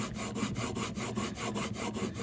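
A Wood River 5 1/2 jack plane blade being sharpened, rubbed back and forth under thumb pressure in a quick, regular rhythm of about a dozen gritty strokes.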